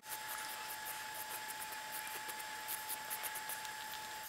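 Steady, fine scratchy rasping of a file against a fingernail, repeated in quick short strokes, close up and with no talking.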